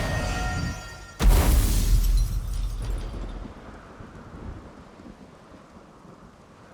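A thunderstorm in The Witcher 3: Wild Hunt bursts into one sharp, loud thunderclap that rolls into a deep rumble and slowly fades over a soft wash of rain.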